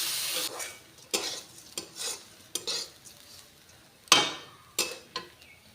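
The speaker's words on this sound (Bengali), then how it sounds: "এই ডাল আমি একটু ভেজে নেব। খুব বেশি ভাজবো না" Masoor lentils being lightly dry-fried in a pan, heard as a series of separate scraping stir strokes with soft sizzling between them, close up and with no talk.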